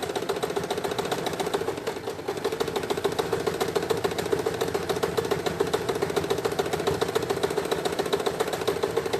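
Sewing machine stitching the seam of a pair of children's shorts, a steady fast mechanical whirr running continuously without pause, close and alone.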